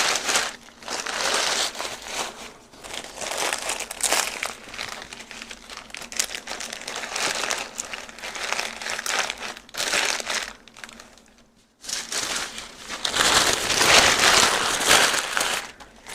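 Paper being crumpled and stuffed into a package for shipping, a sustained close crinkling and crushing that runs nearly continuously with a brief pause before resuming louder.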